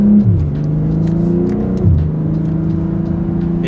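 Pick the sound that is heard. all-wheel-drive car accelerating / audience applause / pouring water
all-wheel-drive car accelerating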